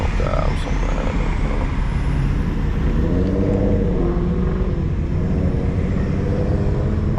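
Cars at a street car meet, a loud continuous engine roar and rumble close by, with a voice talking over it.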